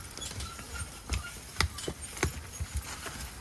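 A pair of Belgian heavyweight pulling horses stamp and strike their hooves while dragging big timber logs up a steep hill, giving irregular, close thuds and clops with no talk.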